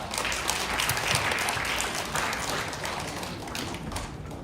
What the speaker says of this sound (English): Okay, let's give everyone a round of applause.